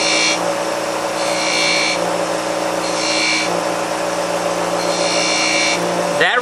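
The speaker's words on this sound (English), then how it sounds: "Now that I've got my tenon made, I'm going to come in with my skew and I'm going to make some V-cuts" Skew chisel cutting V-grooves into a spinning wood ornament on a lathe, a steady motor hum with several bursts of scraping cuts of about a second each, close and fairly loud.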